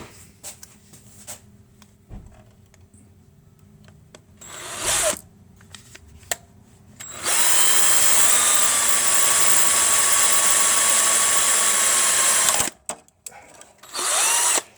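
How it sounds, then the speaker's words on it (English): A power drill whirs in short bursts amid small clicks and handling noises while drilling into a Titanic wreck model, then runs in a long, loud continuous whine before stopping and briefly spinning again. "I put that on the chuck of my drill. And drill down."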